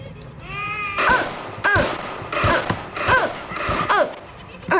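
Video game gunfire in a Roblox Chucky survival game: about five sharp bursts at irregular intervals, mixed with wavering, cry-like tones.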